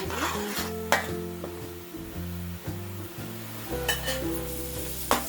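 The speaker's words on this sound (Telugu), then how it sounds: "ఈ విధంగా కొంచెం పచ్చి వాసన పోయేలాగా వేయించుకోవాలి" Masala for a crab curry is stir-fried in a pan, with a steady sizzle under repeated scraping stirs and occasional sharper knocks of the utensil, close and without speech.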